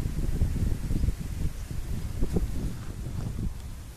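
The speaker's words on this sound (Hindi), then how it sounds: "अभी जोर जोर से हवा चल रही है इसीलिए बाल इधर उधर हो रहे" Strong wind gusting beside a railway track, buffeting the microphone with a continuous low roar and rustling that rises and falls in gusts, with no talking.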